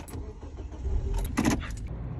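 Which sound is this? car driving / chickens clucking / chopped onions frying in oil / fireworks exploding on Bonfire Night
car driving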